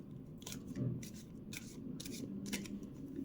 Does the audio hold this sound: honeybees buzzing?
no